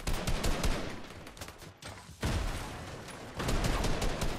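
Rapid bursts of gunfire from a rival team in a Fortnite Zero Build match, loud sustained volleys with brief pauses between, close and dense, with a quieter gap midway before the shooting resumes.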